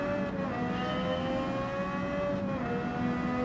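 A race car engine in Gran Turismo 7 holding a steady, loud buzzing drone at high revs, nearly constant in pitch and level, with no talking.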